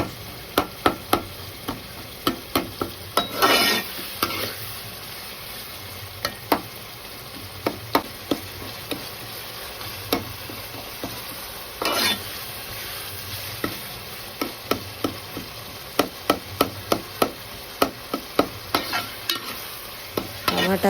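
Fish curry being stirred in a pan with tomatoes, chilli powder, coriander powder, turmeric and salt: a soft continuous sizzle broken by repeated sharp scrapes and clicks of a spoon against the pan, irregular and close.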